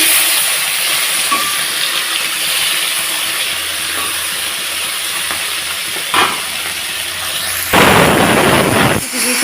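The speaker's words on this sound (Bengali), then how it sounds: "মাছগুলো ভালোভাবে উল্টো পাল্টে ভেজে নিচ্ছি" Small puti fish frying and being turned in hot oil give a steady broadband sizzle with scattered crackles and pops, ending in a brief louder burst of spattering.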